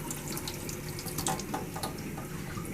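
Running tap water rinses a dental instrument brush during decontamination in sterile processing, a steady close splashing hiss with small spattering bursts as the brush moves under the stream, and no speech.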